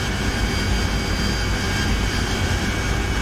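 Harrier jet in the DCS flight simulator game, a steady, loud roar of jet engine noise filling the whole stretch evenly, with no talking over it.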